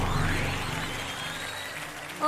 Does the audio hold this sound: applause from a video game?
yes